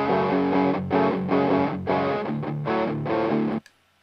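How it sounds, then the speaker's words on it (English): An electric guitar track in Cubase runs through the stock DS distortion plugin with the amp simulator off, aiming for a Peavey 5150 tone. About seven steady, heavily distorted chugged strokes play on their own, then cut off abruptly. "So the DS brings out a bit of distortion"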